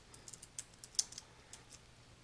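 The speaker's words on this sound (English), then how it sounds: "simply press the Tab key on your keyboard to indent the line to the tab stop that you have inserted" Very quiet keystrokes on a computer keyboard, a scattered run of light clicks with one slightly sharper tap near the middle, close and isolated with no voices.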